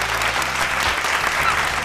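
A studio audience claps loudly and steadily in a brief, dense burst after a correct quiz answer on a televised show.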